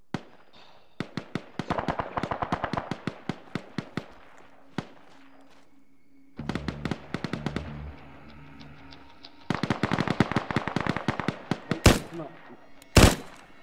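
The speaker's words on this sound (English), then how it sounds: "Who's shooting? Who's shooting the stuff?" Gunfire in the video game S.T.A.L.K.E.R. comes in rapid bursts of sharp shots, several clustered volleys separated by brief pauses, with a couple of louder heavy reports near the end.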